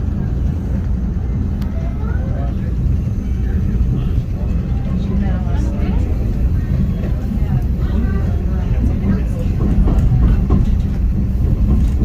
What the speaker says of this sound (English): You may be able to capture a couple of pictures of our train as it crosses this curved trestle.